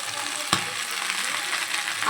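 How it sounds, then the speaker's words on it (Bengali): Washed bottle gourd leaves go into a hot frying pan, bringing a steady close sizzle with one sharp clatter near the start and no voices. "এখন আমি শাকটা এর ভিতরে অ্যাড করে দেব"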